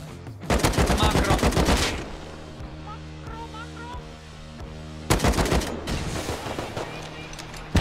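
Bursts of rapid automatic gunfire in a shooter video game, loud clattering volleys that pause for a quieter rhythmic mechanical thumping stretch before the shooting resumes.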